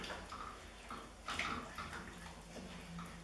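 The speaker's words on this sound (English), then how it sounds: "And then we're just going to top it up with water." Very hot water is poured into a pot of Persian lamb stew, a soft, steady splashing and gurgling stream heard close but quiet, with no talk.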